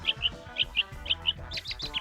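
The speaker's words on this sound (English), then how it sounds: "Bird language." Bird chirps from the video game Honkai: Star Rail, a run of short, bright tweets repeating at a quick, even rhythm, followed by a denser flurry of higher chirps, heard clearly over soft background sound.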